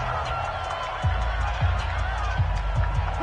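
Video game football crowd noise during a fourth-quarter third-and-short play, a steady broad roar with a few low thumps rising through it.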